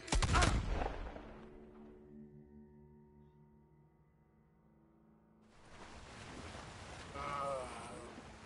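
Video game gunfire: a burst of loud shots at the start, then a sustained tonal hum fading out, followed by renewed rumbling action sounds.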